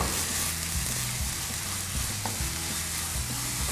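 Ground meat stir-fried with garlic and leek in a hot pan sizzles continuously, with rhythmic scraping and stirring strokes of a spatula close up and no talking.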